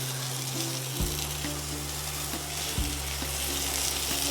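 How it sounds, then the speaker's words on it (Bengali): Bombay duck fish sizzles in a pan with lemon leaves while being stirred. A steady, close frying hiss runs throughout over a low hum, with a couple of soft scraping bumps from the stirring. "আমি এটাকে সমানে এইভাবে একটু নাড়িয়ে চাড়িয়ে ভাজা ভাজা করতে থাকবো।"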